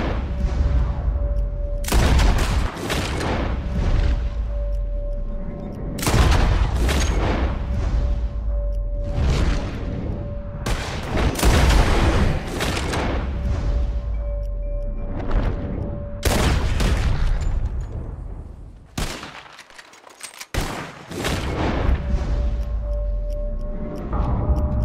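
Shotgun blasts at flying birds in Red Dead Redemption 2 ring out as loud, separate booms every few seconds, each followed by a fading echo, over steady outdoor ambience.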